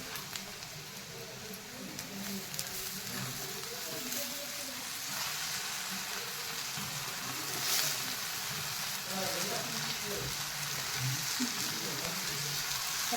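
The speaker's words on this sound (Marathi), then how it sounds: "आता हळद चांगली तेलामध्ये परतळून घेतली. आता यामध्ये मटकी टाकते." Moth beans (matki) sizzling in hot oil with turmeric in a home kitchen pan, a steady close frying hiss with crackles throughout and a faint voice underneath.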